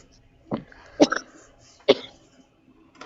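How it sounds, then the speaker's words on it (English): A person coughs three times in short, close, hoarse bursts, spaced about a second apart, with quiet pauses between them. "My poor honey got that cough."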